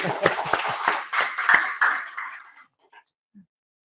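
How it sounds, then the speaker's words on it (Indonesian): A classroom group claps together in a short round of applause. About a dozen uneven claps come fairly close, then fade out over two seconds, followed by a few faint stray sounds and near silence. "tepuk tangan dulu untuk kita semua"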